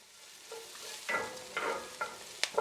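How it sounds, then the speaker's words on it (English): Chopped cabbage is added to a pan of salted pork over medium heat and stirred, giving a few separate scraping, sizzling strokes with soft frying hiss between them, close and moderately loud with no talking. "here's where I'm going to start adding the chopped up cabbage"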